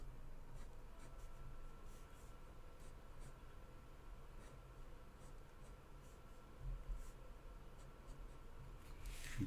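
A pencil scratches and sketches on paper in quick soft strokes, faint and close against a low room hum.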